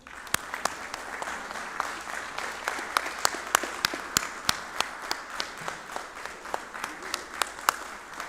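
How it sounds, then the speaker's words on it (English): Applause at a city council meeting, many people clapping in a steady, moderately loud patter with sharp individual claps standing out nearby, and faint voices underneath. "So let's give him a round of applause."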